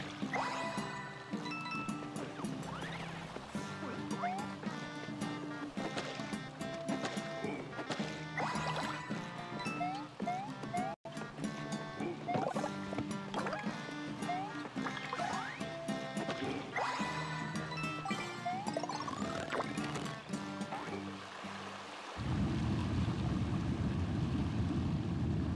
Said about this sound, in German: Der Wasserfall öffnet sich.